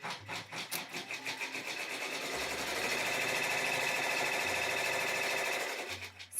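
An embroidery machine stitches a lion design with a fast, steady mechanical chatter and whirring motor hum that runs continuously, occasionally shifting pitch as it moves between stitches.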